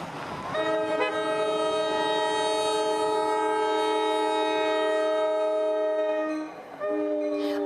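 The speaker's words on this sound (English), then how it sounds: "You can hear the oncoming train chugging down the track." An oncoming train's horn blares long and loud, sustained for several seconds with a brief dip near the end, dominating the scene.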